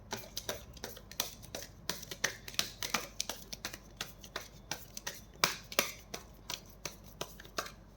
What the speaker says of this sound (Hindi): This is my last shuffle.